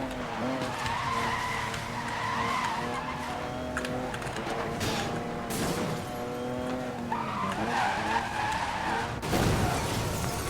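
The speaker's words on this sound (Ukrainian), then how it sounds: "І знову аварія." Tires squeal in long skids from a car in the Need for Speed: Most Wanted (2012) racing game, engine roaring throughout, with a crash impact near the end; no talking.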